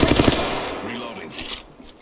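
Automatic weapon fire from the Apex Legends video game, a fast rattling burst that opens loud and close and then trails into rumble and scattered distant shots, with no talking.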